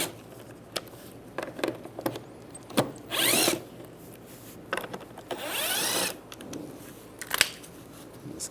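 Cordless tool with a 5.5mm socket removing three screws from a cover on a 2007-2013 Chevrolet Silverado. It gives short ratcheting clicks and several brief whirring bursts, close and fairly loud, with no talking.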